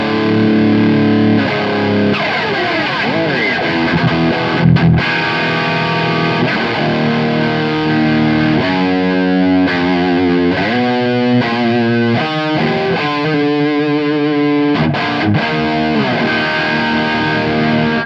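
An electric guitar runs through two stacked Tone City Derple chorus pedals, giving a thick, metallic, warbling tone. It plays loud sustained chords and shifting melodic runs for nearly twenty seconds without pause, with no talking.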